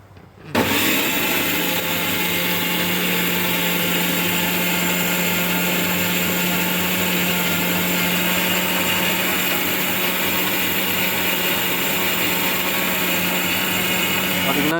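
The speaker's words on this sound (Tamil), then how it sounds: "பெரிய வெங்காயம் சின்ன வெங்காயம் போட்டு நல்லா அரைக்கலாம்" An electric mixer grinder grinds big and small onions for a Kanyakumari-style sala fish curry, producing a loud, steady motor whir that kicks in abruptly and holds unchanged to the end.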